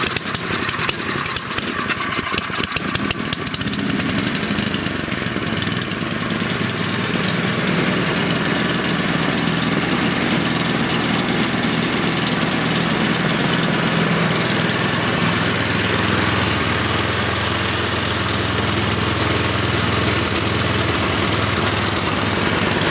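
A Tecumseh snowblower engine runs steadily after being choked and primed, a loud, close mower-like drone that holds for over twenty seconds with no voices.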